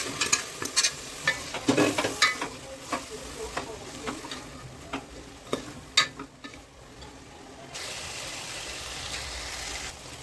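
Pressure-cooked chicken is stirred into sizzling masala in a pan, with scraping strokes of a spoon at an irregular rhythm over a soft frying hiss, then a steadier sizzle.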